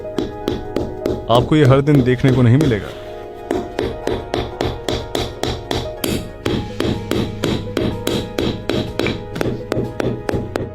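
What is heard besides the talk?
frozen banana used as a hammer, tapping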